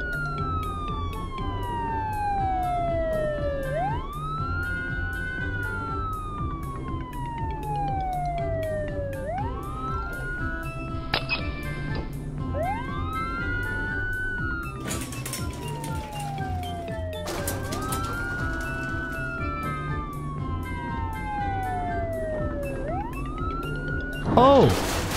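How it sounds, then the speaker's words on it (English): The siren of a cartoon police car patrolling the city in a children's car cartoon: repeated rising and falling wails over a backing of steady music, with a few brief bright effect bursts along the way. "This is a police car. It patrols the city."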